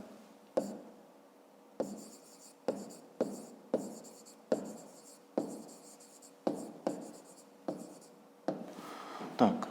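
Handwriting out a fifth-grade math solution on paper, with a series of distinct close pen strokes that start and stop in short bursts of scratching, and no talking.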